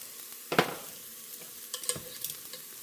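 Fresh chopped garlic tipped into onion that has been frying a few minutes in a pan, giving a sudden burst of sizzle and stirring that fades back into a soft steady fry, with a few more small crackles afterward.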